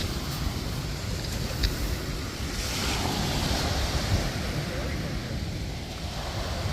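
Steady waves wash over a beach of tiny pebbles near Two Harbors on Catalina Island, a continuous surf roar mixed with wind noise on the microphone.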